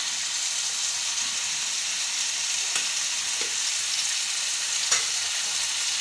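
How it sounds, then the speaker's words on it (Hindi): Boiled potatoes fry in hot oil for aloo sabzi, a steady close sizzle with a few sharp spatters and stirring scrapes over the crackle. "ये जैसे ही हल्की सी फ्राई हो जाएगी, ये बॉयल 4 आलू हैं वो डाल देती हूँ।"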